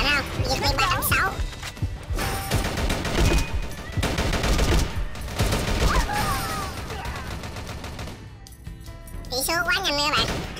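Rapid rifle fire from an M4A1 in the shooter game Chiến Dịch Huyền Thoại, with dense overlapping bursts and other weapons firing throughout, loud and busy, with game voices and effects mixed in.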